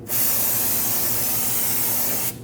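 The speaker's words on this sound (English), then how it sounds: "I'll spray the braking surface with brake parts cleaner" A continuous hissing spray of an aerosol can of brake parts cleaner onto a brake braking surface of a Honda HR-V, steady and close, lasting about two seconds before stopping abruptly.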